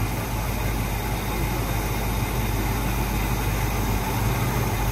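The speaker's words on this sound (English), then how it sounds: "it's running great" A 1975 International Scout II's original IH 345 engine idles steadily and loudly nearby, a constant low rumble with a hissing, noisy edge and no change in pace.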